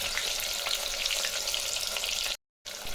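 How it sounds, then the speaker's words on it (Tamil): Sliced big onions frying in hot oil for a taro root kara kuzhambu curry, a steady, close, bright sizzle that carries on without a break apart from one abrupt brief gap of silence near the end. "ஒரு கைப்பிடி அளவுக்கு பெரிய வெங்காயம் நீல வாக்கில் கட் பண்ணி போட்டுக்கலாம்."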